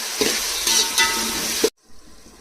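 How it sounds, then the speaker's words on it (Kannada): Finely chopped onions hit hot oil for mutton biryani, a bright close sizzle with stirring that cuts off abruptly near the end. "ಈಗ ಎಣ್ಣೆ ಗರಂ ಆಗಿದೆ, ಅದರಲ್ಲಿ ಹಾಕ್ಕೋಬೇಕು. ಸಣ್ಣದಾಗಿ ಹೆಚ್ಚಿರೋ ಈರುಳ್ಳಿನ ಹಾಕೋತಿದ್ದೀನಿ."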